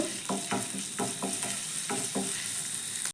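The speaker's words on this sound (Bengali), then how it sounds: "আদাটা আমি তেলের সঙ্গে একটু ভেজে নেব" Grated ginger sizzles in hot oil in a pan for a potato snack, a steady close fry with several soft scraping stirs of a spoon at irregular intervals, no talking.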